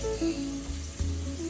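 Green chilies and garlic frying in hot oil for garlic upma, giving a steady close sizzle with faint clatter of stirring, no voices.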